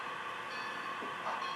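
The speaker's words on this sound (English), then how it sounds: "So this train is off now" Model train departing on a model railroad, a brief steady mechanical hum and whir with a faint rise near the end, heard alone without talk.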